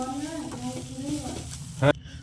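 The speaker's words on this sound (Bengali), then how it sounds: "আমি এটা ভালো করে ভেজে একটু কষিয়ে নেব" Dried loitta fish frying with spices in a pan, a steady low sizzle running under a voice, ending in a brief louder hiss of oil.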